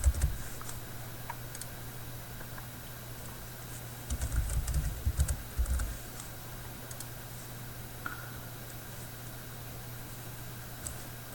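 A computer keyboard is used to enter a username and password: soft, quiet key taps come in short bursts, with a brief cluster of firmer clicks midway, over a faint steady background hum.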